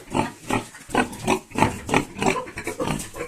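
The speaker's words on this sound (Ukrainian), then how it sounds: "Це ще одна свинка наша." A farm pig kept in an outdoor pen grunts in a steady series of about a dozen loud, close, rhythmic snorts, with no talk over it.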